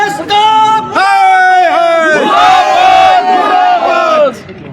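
Crowd chanting murdabad slogans against the Congress party at a protest over the Manohar murder case, loud and close, with rhythmic shouted voices in unison, repeated phrases rising and falling across the whole stretch.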